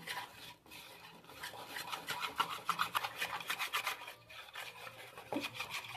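Half a spoon of turmeric powder and about two spoons of oil mixed together by hand into a spice paste for chicken: close, steady wet rubbing and squishing strokes in a continuous rhythm, with no talking.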